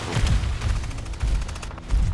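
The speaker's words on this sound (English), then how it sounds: "Oh, fire breath." A monster's fire breath attack in the video game Evolve roars out as a loud, dense rush of crackling bursts, with rapid popping like gunfire layered over a low rumble.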